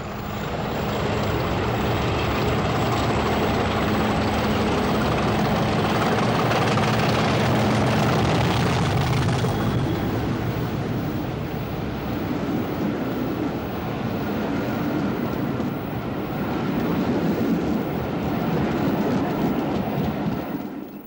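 Class 50 diesel locomotive 5029 hauling the 0800 Wolverhampton to Penzance train in Cornwall, 1986, a loud, steady engine roar with rumbling wheels that stays close and constant throughout, swelling slightly midway, with no voices.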